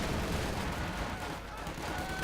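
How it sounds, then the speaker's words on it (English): An MG42 machine gun fires in a Company of Heroes 2 battle, producing a dense, continuous burst of rapid gunfire amid other battle noise. "MG42 hosing down the fascists"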